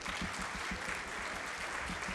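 Audience applause for a speaker being introduced at the Karachi Literature Festival inauguration, a steady, even wash of clapping from a sizeable crowd.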